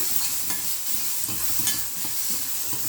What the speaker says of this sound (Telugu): ఎండుమిరపకాయలు కూడా వేయించేసుకుంటే ఆల్రెడీ హైలో ఉంది కదా